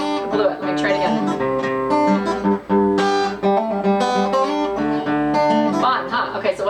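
Electric guitar playing a hammer-on and pull-off intro lick, plucked notes ringing in a steady melodic run, close and fairly loud throughout with one brief stumble near the middle.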